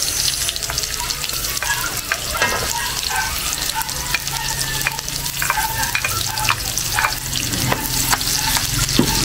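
Garlic and onion sautéing in a little oil in a pan after pork has browned, a loud continuous close sizzle with repeated scraping stirs and tapping of a utensil against the pan.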